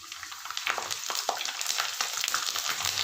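Peeled garlic sizzles in hot oil with popped mustard and fenugreek seeds in a clay pot, a steady close crackle with scattered sharp pops and light stirring, with no voices.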